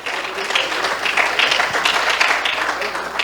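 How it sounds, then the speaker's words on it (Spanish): Congregation in a Spanish-language church service clapping together, a dense, sustained round of applause filling the room from start to finish. "Le demos una ofrenda de aplausos al Señor"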